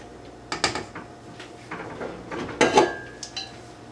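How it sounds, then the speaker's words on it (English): Cake batter for a simple yellow cake is scraped down the side of a mixing bowl, making a few short scraping clatters and utensil clinks against the bowl at close range. "we're going to scrape down the side of the bowl"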